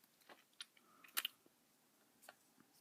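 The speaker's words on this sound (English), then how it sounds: "It's crunchy from the sugar crystals." Crunchy bites of Japanese soda candy coated in sugar crystals, a few sharp close crunches and chews, sparse and quiet with pauses between them.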